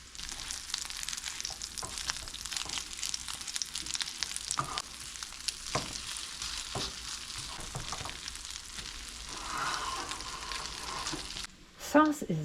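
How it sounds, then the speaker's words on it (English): Cream cheese sauce melting in a pan on low heat gives a steady soft sizzle with occasional stirring scrapes, close and continuous, ending in a brief louder clatter. "I have to come back and stir it occasionally until it's nice and melted."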